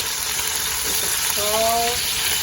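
Loud, steady sizzling of meat for stuffed chicken with rice cooking in a pan, a continuous hiss filling the clip, with a brief tonal sound in the middle.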